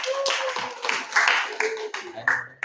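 Classroom applause at the end of a group presentation, a short burst of clapping hands from a small group, close and lively, with voices talking over it.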